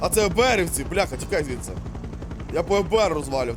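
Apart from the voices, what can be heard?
No distinct noise like a dog, phone or traffic.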